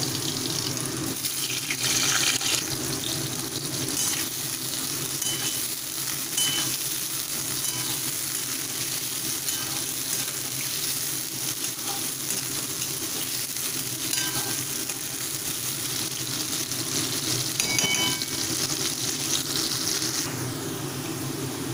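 Potatoes frying in hot oil in a pan make a continuous, even sizzle that holds steady throughout, close and moderately loud, with faint stirring and no speech.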